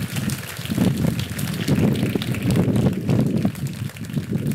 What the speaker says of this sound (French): le vent souffle